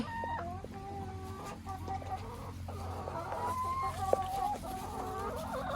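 Several chickens cluck and chatter close by, a steady overlapping stream of calls with a few sharper squawks, no talking.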